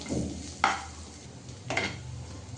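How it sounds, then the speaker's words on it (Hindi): Onions frying in a pan while being stirred, a low steady sizzle with two distinct scraping spatula strokes against the metal, close and quiet, no talking. "अब यहाँ पे प्याज को भी हम भून लेते जब तक कि प्याज अच्छे तरीके से भून ना जाए, तब तक इसे हमें भूनना है।"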